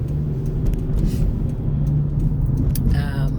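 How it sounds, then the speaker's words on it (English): Heavy road traffic rolls past as a dense, steady low rumble of engines and tires, loud and continuous with no letup. "Traffic is heavy."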